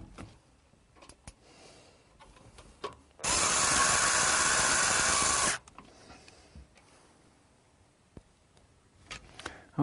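Screws driven by a power screwdriver to secure a PC power supply, one loud steady whirring burst of about two seconds between faint handling clicks.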